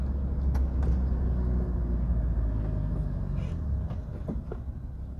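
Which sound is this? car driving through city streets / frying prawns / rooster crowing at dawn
car driving through city streets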